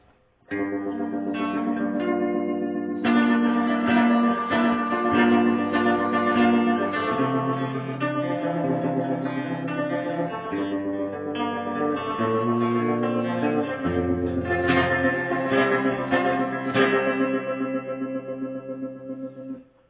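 A sustained electric instrument plays chords and melody drenched in heavy reverb from a vintage Marlboro QSB-II Quadra Sound Blender analog multi-effect unit, notes washing into one another, continuous and fairly loud.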